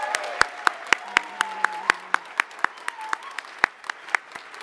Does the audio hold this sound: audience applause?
yes